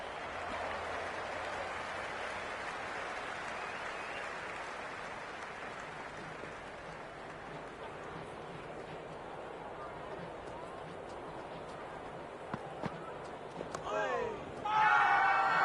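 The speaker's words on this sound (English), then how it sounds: "There's a buzz, a real buzz coming from the stands" A steady crowd buzz fills a cricket stadium during a T20 World Championship semi-final between England and West Indies in Cricket 26, a continuous roar from the stands under a commentator's voice, with a brief cheer swelling near the end.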